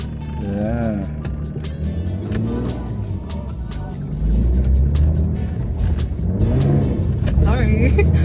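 A Lexus IS200 car pulls away in first gear, its engine note rising steadily and growing louder partway through, with people talking inside the cabin over it.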